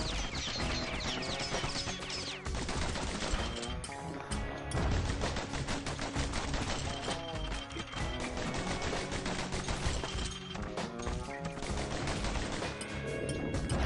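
Rapid pistol gunfire from the video game Bastion, sharp repeated shots packed densely throughout and blended into a loud, busy game soundtrack with no pauses.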